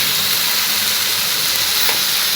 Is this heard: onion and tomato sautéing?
yes